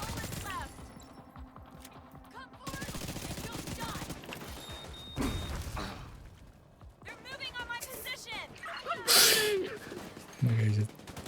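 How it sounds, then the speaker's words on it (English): Video game gunfire crackles in scattered bursts at a distance, mixed with game effects and a person talking over much of it. "The reason I'm shooting from far away and not, like, actually even hitting anything is just to scatter everybody"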